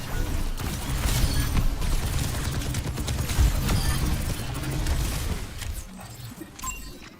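Sustained rapid gunfire in a video game as a player shoots at a ram, a dense continuous clatter of shots and mechanical noise that runs for several seconds and thins out near the end.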